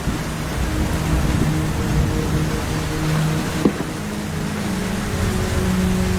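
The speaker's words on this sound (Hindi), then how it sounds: "जंगल में बहुत तेज बारिश हो रही है।" Heavy rain pours down steadily in a forest in a cartoon, a dense, even hiss that carries on unbroken throughout.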